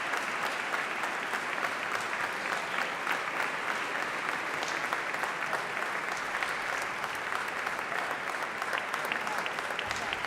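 Steady, sustained applause from a large audience after a performance of El Cant de la Sibil·la, a dense wash of clapping that holds at an even level throughout.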